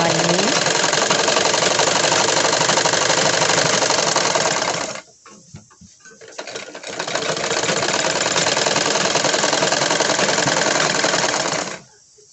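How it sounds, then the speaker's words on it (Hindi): A sewing machine stitching a woolen kurti runs loud and close in a fast, continuous mechanical whir, stops briefly partway through, then resumes running steadily until it cuts off near the end. "उसके बाद हमें इस तरह से सिलाई लगा लेनी है।"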